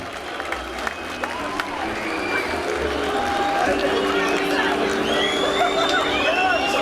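An outdoor crowd at a Turkish university spring festival claps and cheers for a guest called to the stage, with scattered whistles and shouts over a thick, steady roar of applause and chatter that grows slightly louder.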